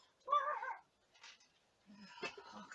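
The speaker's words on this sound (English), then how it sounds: "Barking dogs." A dog gives a short yelp or bark, then quieter scattered barking and whimpering follow, faint and brief with pauses between.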